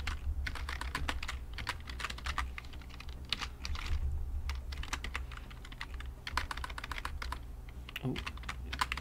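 Rapid, uneven keystrokes on a computer keyboard while someone builds input fields for a Chrome auto-fill extension, a steady clatter of close taps running throughout over a low background hum, with no talking.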